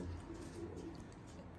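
A pigeon of the English Long Face or Mohican breed gives a brief, soft coo, a low murmuring call that is quiet and near, with no speech over it.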